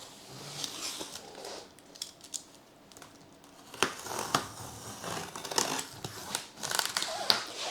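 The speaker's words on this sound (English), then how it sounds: "I'll first cut the tapes" A blade cuts through packing tape on the box of a Roborock Saros 20 robot vacuum, with close, uneven slicing and crinkling scrapes and short sharp bursts.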